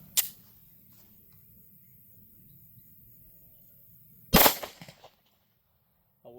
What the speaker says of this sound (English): Now we're going to do a 5-round test of the Atlanta Arms Elite Defense 124 grain jacketed